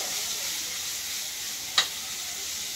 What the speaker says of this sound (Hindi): पहले तो इसको फ्राई होने देते हैं